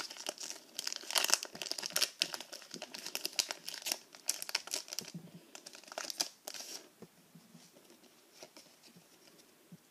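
Crinkly plastic wrapper of a Pokémon card booster pack being torn and rustled open close up, a dense stretch of crackling and tearing that fades to quieter handling near the end.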